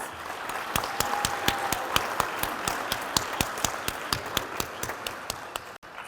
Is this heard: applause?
yes